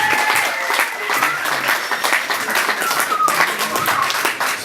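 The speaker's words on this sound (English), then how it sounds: "give a very big round of applause for our children also for helping us" Lively applause at a 50th birthday celebration, loud close clapping from a crowd with individual sharp claps standing out, sustained throughout with some voices mixed in.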